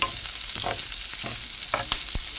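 Green onions being stir-fried in a pan for a tofu and mung bean sprout dish, a close, loud hiss of sizzling broken by several quick scraping stirs, with no one talking.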